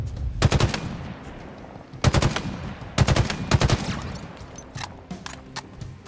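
Rapid automatic gunfire in the video game Halo Infinite, aimed at fluttering skimmer enemies, comes in four loud, close bursts separated by short pauses, followed by a few fainter single shots.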